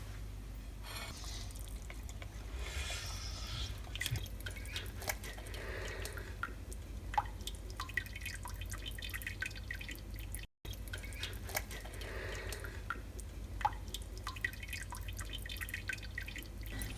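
Water drips and splashes in scattered bursts as a whole boiled chicken is lifted out of its pot of cooking water, soft wet patters over a quiet kitchen background.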